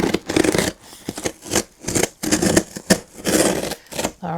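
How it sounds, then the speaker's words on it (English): Small safety scissors cutting open the packaging of a Dollfie Dream doll box, a series of close, sharp snips and rustling cardboard and plastic scrapes coming in irregular bursts with short pauses between. "get my little safety scissors"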